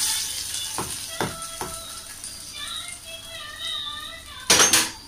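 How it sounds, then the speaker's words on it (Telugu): Hot tempering poured into chutney for an Andhra-style meal, a few sharp spoon clinks and then a brief, loud burst of crackling sizzle near the end, close up. "ఇలా మనం వేసిన తాలింపుని ఇందులో వేసేస్తున్నాము."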